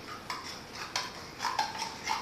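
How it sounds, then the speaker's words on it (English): Light clinks of a metal spoon against a bowl as it is set into nacho cheese dip, a few soft taps and a faint ring over a quiet kitchen background. "You can put a spoon here so that they can, you know, dip back and forth"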